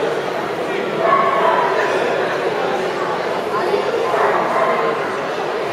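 Cavalier King Charles spaniel yipping and whimpering at a dog show, light high-pitched bursts in the middle and near the end under continuous nearby chatter and someone talking over it.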